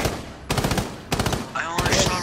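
Rainbow Six Siege gunfire comes in three sharp, loud bursts of rapid shots separated by brief pauses, with faint game sounds in between.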